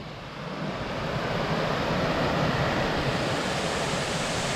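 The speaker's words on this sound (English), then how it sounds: "Yo, check that waterfall though" Steady, broadband roar of a waterfall at Babb Run Sanctuary, loud and continuous throughout, with a faint wind rumble underneath and no voices.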